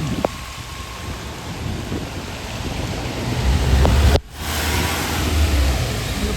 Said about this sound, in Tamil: வெள்ளம் நல்ல மழை பெய்து கொண்டு இருக்குது